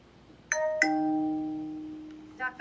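A Moto G 5G phone sounds its TalkBack activation tone: two bright chime notes in quick succession with a sustained ringing tail, followed by a short fainter blip, clear and alone in a quiet room.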